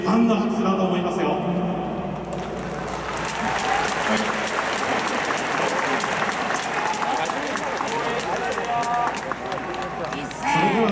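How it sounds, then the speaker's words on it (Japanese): Baseball fans in a stadium applaud during a post-game hero interview for Endo and Matsuba, a dense, steady wash of clapping from a large crowd that swells and holds for several seconds. "さらに大きな拍手、遠藤さんのお立ち台を楽しみにしているファンの拍手だと思いますよ。"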